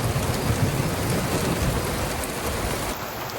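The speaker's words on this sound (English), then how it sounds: "Oh, thunder, come on." Steady, loud rain pours down at a fishing lake during a thunderstorm, a dense hiss with low rumbling thunder underneath that fades slightly toward the end.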